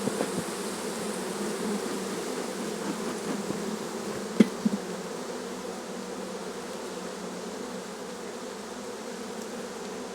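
Honey bees buzz steadily around a light hive frame that holds pollen, eggs and a little honey. The droning hum is dense and constant and sits close by, with a couple of faint knocks partway through and no voices.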